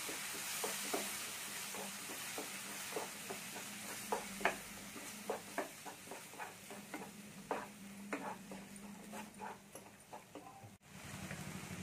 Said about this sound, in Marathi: 2 मिनिटं हे चांगलं मसाला भाजून घेऊया.